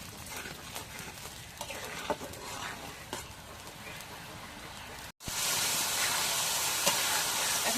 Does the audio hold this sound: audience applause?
no